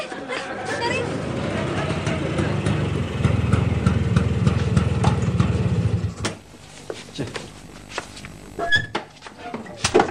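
Motorbike engine idling just after repair, a steady mid-pitched putter lasting about six seconds before cutting out, followed by clattering sounds and people talking nearby.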